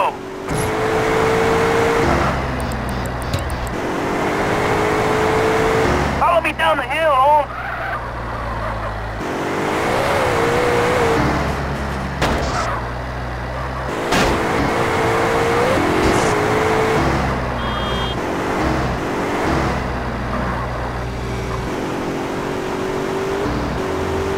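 Cars driving with nitro boost during the Test Drive mission of GTA: San Andreas on PS2, loud sustained engine drone with shifting revs and whooshing surges, repeatedly overlaid by characters talking.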